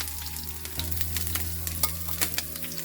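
Chopped green chillies and garlic fry in hot oil for a chicken chili dish, giving a steady, close sizzle that swells and crackles more brightly when the chillies drop in, with a few sharp spits throughout.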